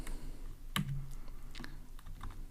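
Quiet typing of code on a computer keyboard, a few scattered key clicks with one sharper tap, in a calm indoor setting.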